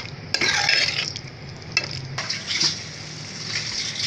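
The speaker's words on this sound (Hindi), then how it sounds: "मीडियम फ्लेम पे ऑयल सेपरेट होने तक इसे भूनेंगे" Masala for a chicken curry fries over a medium flame, a close, hissing sizzle broken by a few scraping stirs and clinks, rising and easing over a few seconds without talk.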